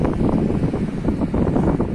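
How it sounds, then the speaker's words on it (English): Steady wind rushing and buffeting across the microphone, a constant low roar with no voices. "Bit windy now."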